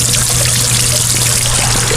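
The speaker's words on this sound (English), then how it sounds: "Then you have the sound of the water falling off" Water falling off a spruce base three-stack bird bath fountain, a continuous close splashing and trickling pour with a low steady hum beneath it.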